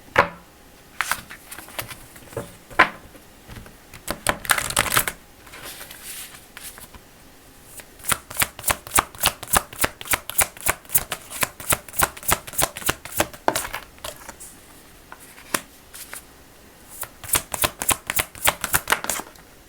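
Tarot cards being shuffled and drawn, giving quick papery riffles and slaps in fast bursts, with a louder flurry near the start and steady rapid flicking throughout, close up and without voices.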